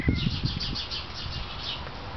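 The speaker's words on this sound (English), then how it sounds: "The mama birds want it back." Several birds chirp in quick, repeated bursts of short high calls, fairly close, over a low rumble of handling or movement at the start.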